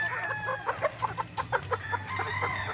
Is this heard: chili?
no